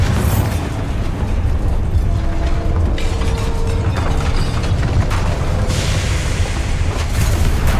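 A Bombarda blast spell from Hogwarts Legacy erupts as a loud, sustained booming rumble, with dense low-end roar and crackling debris throughout, no voices over it.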